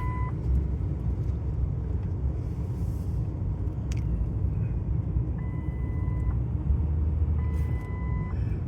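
A car's warning chime for a malfunctioning airbag light sounds during a drive near the Delaware marshlands in Little Creek and Leipsic, Delaware, as a few short, clear two-tone beeps repeating over a steady low road rumble inside the cabin.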